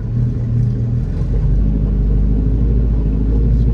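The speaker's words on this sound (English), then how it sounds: "RPM seems to be the fairly stable tickover." A 1930 Bentley Speed Eight 6½-litre engine idles at a steady tickover, a loud, continuous low rumble with an even throb that holds throughout, with no talking.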